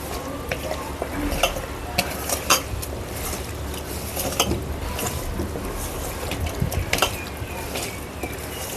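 Chicken being stirred and mixed by hand with a cornflour and ginger-garlic paste marinade in a bowl, giving a steady wet squelching and scraping with occasional clinks of a utensil, close and continuous, with no talking.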